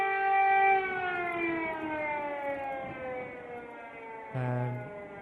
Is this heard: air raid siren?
yes